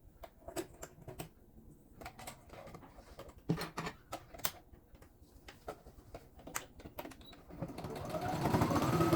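Sewing machine topstitching through fabric lining with a slightly longer stitch, a quiet run of rapid clicking stitches with short pauses, building into a steadier whir toward the end.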